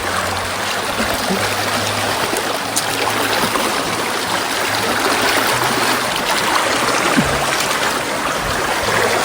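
A stream running down from a bare hillside in forest, a loud, steady rush of flowing water close by, continuous throughout with no voices.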